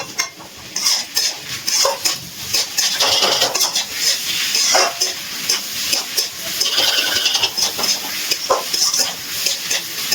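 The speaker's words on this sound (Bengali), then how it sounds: "খুব ভালো করে চিংড়ি মাছগুলো মিশিয়ে নিচ্ছি।" Fried small prawns are stirred into a banana flower curry in a pan. A spoon scrapes and clatters steadily against the pan over a constant oily sizzle, close and loud, with no talk.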